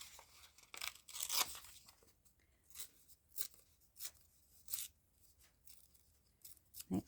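Paper torn by hand for a collage, a run of quick ripping bursts, dense at first and then spaced out, faint and close with no talking.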